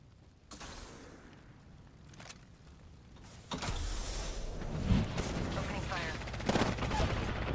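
Rapid gunfire in a ranked video game match, bursts of shots building into sustained firing over the second half, fairly loud, with game ambience and some talk.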